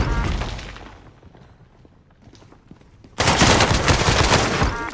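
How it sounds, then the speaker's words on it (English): Video game gunfire cracks out in dense bursts, a quieter scattered stretch of shots giving way to a sudden, loud sustained barrage of rapid automatic fire in the final seconds. "Shooting at me!"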